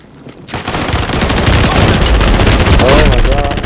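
Sustained rapid gunfire from Call of Duty Warzone Resurgence, dense automatic bursts filling the mix loud and close, with players shouting over the shooting.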